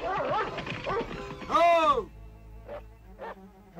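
A dog in a Smurfs cartoon gives a single short bark after a character speaks, followed by a couple of faint yips.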